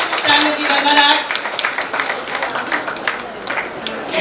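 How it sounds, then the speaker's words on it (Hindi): An audience at a community women's association gathering claps in welcome, brisk applause loudest at the start and thinning into scattered claps, with a voice speaking over it. "अभिनंदन, तालियों की गड़गड़ाहट।"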